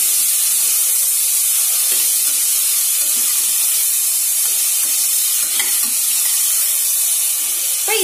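Carrot, radish, beans, potato, brinjal and drumstick sauté in a pan for sambar rice, giving a loud, steady hissing sizzle with only a few faint stirring knocks.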